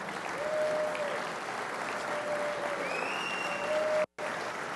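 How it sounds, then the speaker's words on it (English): A round of applause for a visiting youth jazz band at a forum, steady broadband clapping from an audience filling the room, with a brief dropout near the end. "Please give a round of applause to the Dream Seeds Jazz Band"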